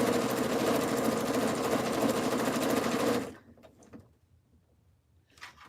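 A sewing machine runs a straight stitch through a jelly roll rug, a steady loud mechanical whir for about three seconds that then stops, leaving faint handling sounds and a brief rustle near the end.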